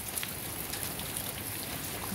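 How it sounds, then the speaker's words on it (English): Steady evening rain falls without a break, a dense even hiss of drops on surfaces, fairly close and constant with no voices. "It's not actually storming, it's just raining."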